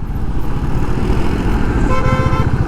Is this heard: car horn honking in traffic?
yes